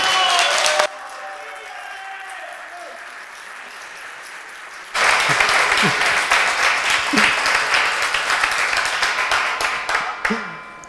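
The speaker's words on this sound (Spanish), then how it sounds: "vamos a recibirle, por favor, con un fuerte aplauso" Audience applause welcoming a speaker at an arcade convention talk breaks out loud and sustained after a brief quieter stretch, filling the hall with dense clapping.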